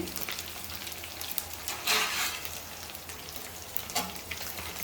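Dried fish frying in oil in a pan, a soft steady sizzle with occasional louder bursts of crackle and spatter, fairly quiet and without talk.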